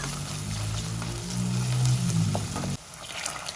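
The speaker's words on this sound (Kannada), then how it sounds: "ಸಣ್ಣಗೆ ಹೆಚ್ಚಿರೋಂಥ ಈರುಳ್ಳಿ ಎಣ್ಣೆ ಚೆನ್ನಾಗಿ ಫ್ರೈ ಮಾಡ್ಕೊಳ್ಬೇಕು" Finely chopped onions fry in oil in a pan while rice is prepared with fresh field beans and soy chunks. A steady close sizzle with a low bubbling hum runs for nearly three seconds, then drops sharply to a quieter hiss.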